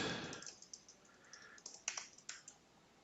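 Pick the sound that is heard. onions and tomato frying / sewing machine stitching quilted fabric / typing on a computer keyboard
typing on a computer keyboard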